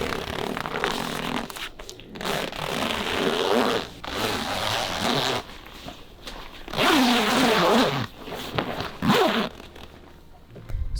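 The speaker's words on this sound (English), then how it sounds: "and begin the zipping process" A zipper is drawn along a tent to attach a Condor annex, giving several long rasping pulls close up, separated by short pauses.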